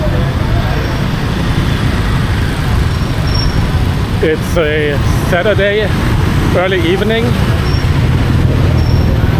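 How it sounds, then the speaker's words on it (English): Busy Saigon street traffic on a Saturday evening: a steady, dense roar of passing vehicles that fills the whole stretch, with someone talking over it partway through. "so there's a lot of traffic here."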